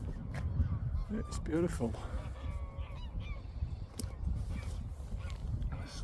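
Geese honking at old open-cast mine workings on the edge of Leeds, several loud nasal honks in a cluster at mid-distance over low wind rumble, with a person speaking briefly nearby.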